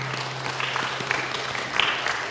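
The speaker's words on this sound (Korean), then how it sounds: "우리 함께 하신 주님께 영광의 박수 드립니다" Applause from a church congregation at a Korean Baptist service in Austin, a soft, steady patter of many hands clapping at moderate distance, sustained throughout with no voices over it.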